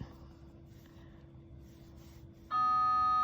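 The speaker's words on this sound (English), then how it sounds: "there's the bell" A bell strikes suddenly near the end, a loud, sustained ringing tone that cuts in over quiet background room noise and keeps sounding to the close.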